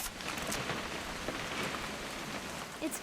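Steady rain pours in the video game What Remains of Edith Finch, an even, close hiss of drops striking surfaces with no talking.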